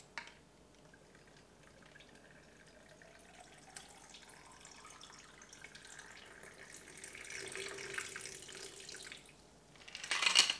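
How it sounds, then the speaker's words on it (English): A Sex on the Beach cocktail is poured over ice, a soft, steady liquid stream that rises in pitch as the glass fills, ending with a louder splashy burst near the finish. "So we pour this over ice."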